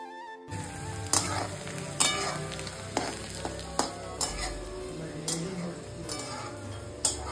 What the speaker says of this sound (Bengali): আমরা এখন মাংস রান্না করছি।